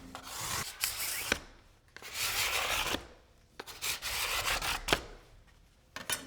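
Hand sanding or scraping across a freshly glued guitar top to level the seam and remove excess glue, a series of repeated rubbing strokes, close and fairly quiet, with short pauses between passes.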